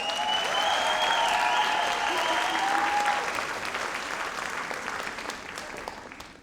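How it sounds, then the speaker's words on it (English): At a nursing candle lighting ceremony, the audience applauds the nursing team. The clapping is loud and full at first, then slowly thins and fades, and a faint sustained tone rings over it early on. "Please applaud them."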